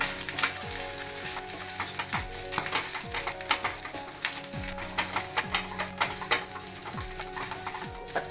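Sliced onion and potato sizzle and fry on a hot dosa tawa, a loud steady hiss broken by repeated sharp scraping and stirring strokes of a metal spatula, close up with no talk.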